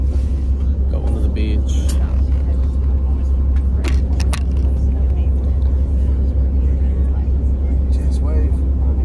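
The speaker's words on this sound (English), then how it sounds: "we're on a bus." Steady low engine rumble of a bus on the move during a Caribbean cruise trip, with rattles and clunks inside and people chatting over it.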